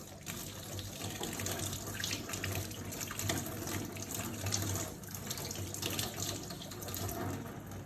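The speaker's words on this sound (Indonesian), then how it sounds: "Kemudian bilas hingga bersih." Tap water runs steadily into a sink as hands are rinsed, a close, even splashing rush that lasts throughout without speech.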